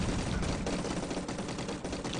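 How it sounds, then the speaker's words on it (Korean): Dense, continuous bursts of rapid gunfire from a Minecraft zombie survival game fill the whole stretch, loud and unbroken, like sustained automatic weapon fire. "총소리 못 끊어"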